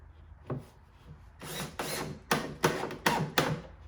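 A screw is driven by hand into a scrap piece of wood, giving rasping, creaking turns that come in a steady series of rough strokes, close and fairly loud.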